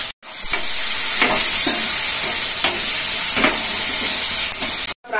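Onions fry in a pan with turmeric, a loud, close, steady sizzle broken by several rhythmic scraping strokes as they are stirred, with no voices.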